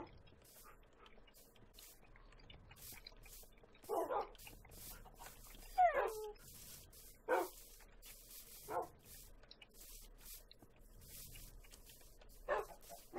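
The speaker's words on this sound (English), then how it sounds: "Although they're going to hear the dogs, actually." Dogs bark in a video game: a handful of sharp, separate barks spaced a second or two apart, faint and somewhat distant over a quiet, steady game background.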